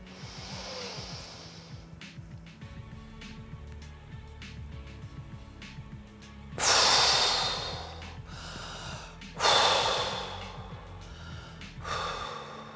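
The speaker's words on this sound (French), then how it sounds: "Je souffle et je relâche tous les muscles." Breathing exercise with three forceful, close exhalations blown out in strong bursts, each followed by quieter breathing and faint rustle; no talking.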